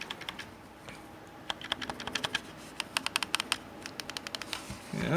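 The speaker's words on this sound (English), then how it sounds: "All the buttons are perfectly clicky." Buttons on a PDP Faceoff Deluxe+ wired Nintendo Switch controller click sharply. The presses come in irregular bursts, each one crisp and close, and fall into a quick rapid cluster near the end.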